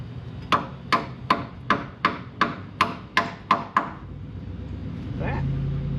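A brake clip tapped into place with a hammer: about nine sharp, evenly spaced metallic taps close by, then a quiet pause and a rising low hum.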